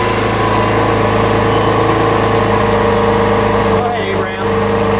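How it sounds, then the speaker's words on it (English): A white 2017 Lamborghini Aventador S with its V12 engine idling in Corsa mode, a steady, loud low rumble that holds throughout with a brief dip near the end, while people talk over it. "Let it just idle for just a second"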